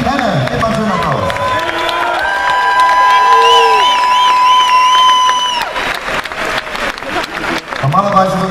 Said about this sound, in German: Gebt mal schön Applaus.